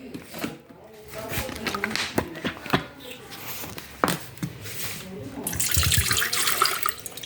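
Tap water running into a sink amid clattering and handling noises, starting in short bursts and then building to a steady stream near the end, with people talking in the background.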